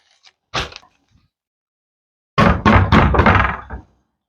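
Knocking on a door in a Hindi comic scene: a light tap, then a short burst of knocks, a pause, and a longer run of rapid, loud raps, all without speech.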